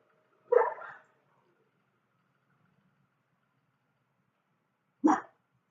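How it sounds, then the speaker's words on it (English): Two separate barks from dogs in a quiet home, with a Shih Tzu and an English Springer among them: one sharp bark with a short tail, then a long pause, then a second clipped bark. "Those are my dogs."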